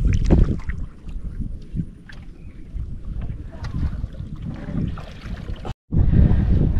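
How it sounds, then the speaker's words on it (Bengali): A small rowboat on a lake, Bortir Bil near Kolkata, being paddled: irregular splashes and knocks of oars against water and hull, with wind buffeting the microphone, close and fairly loud, briefly cut out near the end. "এই যে আমাদের সুভাষদা নৌকা চালানোর জন্য প্রস্তুত"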